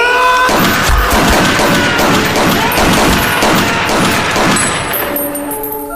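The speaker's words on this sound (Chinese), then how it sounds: "没人提防的小吴竟拿起枪打死了另外的队友" Rapid military gunfire in the Korean horror film R-Point, soldiers firing inside an eerie building: a loud, dense run of overlapping shots and thuds that keeps going for several seconds, then eases slightly at the end, with no voices.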